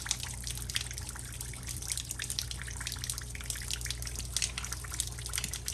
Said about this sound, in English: I'm guessing that's like water from this PEX coming back down through it